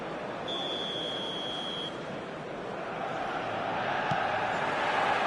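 Stadium crowd noise in the eFootball video game, a steady broad roar of many voices with a long sustained whistle-like tone early on, filling the space alone without speech.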